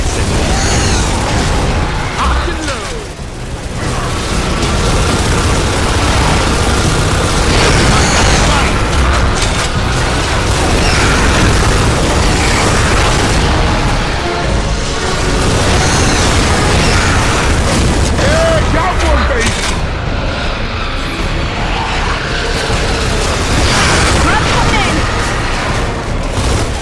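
Nemacyst organic mortar explosions in the video game Gears of War: Judgment: repeated booms and bursts within continuous loud battle noise, with mechanical clatter throughout.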